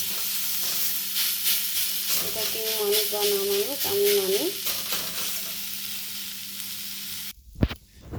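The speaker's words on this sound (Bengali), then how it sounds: "শাকটা ভাজা হয়ে গেছে" Drumstick leaves fry in a pan with a steady sizzle and stirring, while someone talks over the cooking before a sharp clatter at the end.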